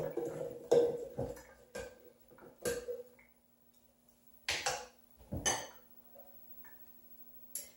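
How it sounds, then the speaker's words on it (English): Homemade vegan milk being mixed in a glass, with a run of quiet, irregular clinks and taps of a utensil against the container, a short lull in the middle, then a few more scattered clinks. "Let me mix this up."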